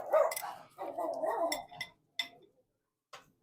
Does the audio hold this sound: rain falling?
no